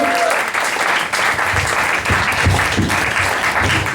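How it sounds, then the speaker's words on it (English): Steady applause from the crowd at a comedy roast in a bar, loud and sustained across the whole stretch with bright, dense clapping and faint crowd noise beneath. "Let's have one more clap for Rorschach before we move on."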